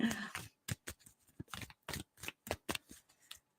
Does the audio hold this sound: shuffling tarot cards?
yes